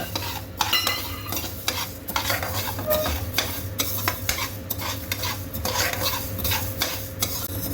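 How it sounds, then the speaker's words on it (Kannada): Coriander seeds roasting in a pan alongside browned urad dal, with steady sizzling and repeated scraping stirs of a spoon against the metal, close and continuous without talk. "ಈ ಥರ ಧನಿಯಾ ಒಂದು ಸ್ವಲ್ಪ ನೋಡಿ ಶಬ್ದ ಬರುತ್ತೆ"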